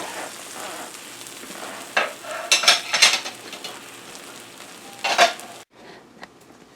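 Steak meat browning in a hot cast iron skillet for a cheese steak, a steady loud sizzle with sharper bursts of spatula scraping and stirring against the pan.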